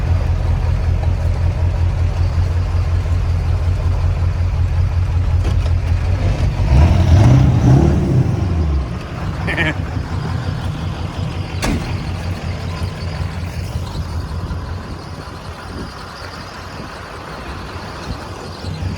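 Heavy Ford F350 dually pickup engine rumbling as the truck pulls out of an old barn, a loud low drone that swells midway, then settles into a steadier idle with a brief sharp click.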